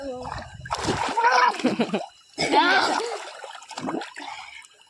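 People bathing in a farm water tank splash loudly in two big bursts with sloshing water between, while voices, including a child's, talk.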